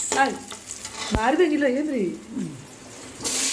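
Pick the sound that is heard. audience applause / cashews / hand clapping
cashews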